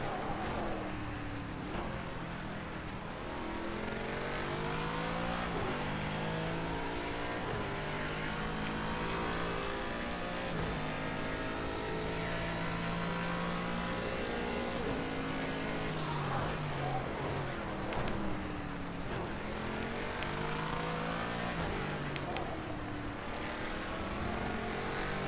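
Race cars in a video game lap a track, a continuous engine drone whose pitch climbs and drops repeatedly through gear shifts, steady and moderately loud throughout.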